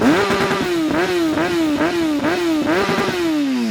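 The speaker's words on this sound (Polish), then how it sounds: "Dźwięk, który wydobywa się akurat w tym przypadku z akcesoryjnego wydechu" A Yamaha YZF-R1 RN09 sport motorcycle engine revs repeatedly through a loud aftermarket exhaust, rising and dropping in steady pulses, close and continuous.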